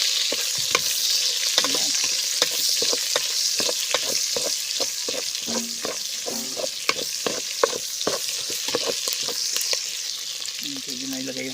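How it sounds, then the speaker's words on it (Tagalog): Garlic fried golden brown, then ginger and onion, sautés in a pan for pork pakbet. A continuous hiss is punctuated by frequent sharp clacks of a stirring spatula, and a voice speaks briefly. "Igsabay ko na yung luya at saka sibuyas."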